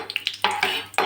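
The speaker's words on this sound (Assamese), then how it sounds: "ইয়াত এতিয়া মই কাজু বাদামখিনি ফ্ৰাই কৰি ল'ম" Cashew nuts frying in ghee in a wok over medium heat: a short burst of spoon-against-pan stirring clinks, then a soft, close sizzle swelling between the strokes.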